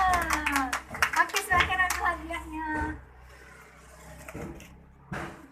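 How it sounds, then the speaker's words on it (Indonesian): A class clapping hands together, a burst of rhythmic claps under a teacher's speech, then fading to a quiet room with a few scattered claps and a last short burst. "kasih tepuk tangannya"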